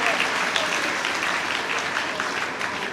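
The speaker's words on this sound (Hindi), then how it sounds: "बच्चों से रिक्वेस्ट है कि जोरदार तालियों से स्वागत" Students at a girls' gurukul school investiture ceremony applaud loudly to welcome guests, a dense, sustained burst of clapping from a large group that holds steady throughout.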